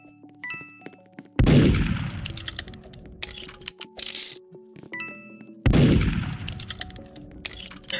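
Gun in the video game Roblox Murder Mystery 2 fired twice, a few seconds apart, each shot a sharp loud crack with a ringing tail, plus light clicking in the background.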